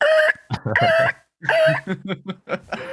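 A chicken clucks in a quick series of short, bright calls with brief gaps, close and fairly clear, with no talk over it.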